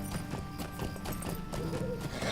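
Hooves of a horse clip-clop steadily in the online game Lord of the Rings Online, a faint, even trotting rhythm under a quiet background hum.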